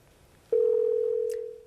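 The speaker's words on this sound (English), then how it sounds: "We got a phone ringing" A telephone line on a call-in radio show gives a single steady electronic tone, loud and sustained for over a second before fading, with no voices over it.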